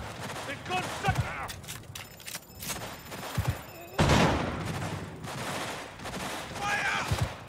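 Gunfire in Cyberpunk 2077: rapid bursts and single shots with heavy thumps, loud and close, repeated across the stretch while voices shout over the shooting.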